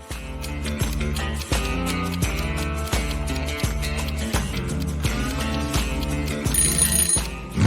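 A telephone bell rings loudly and steadily in an evenly spaced, repeating pattern, heard alone and close.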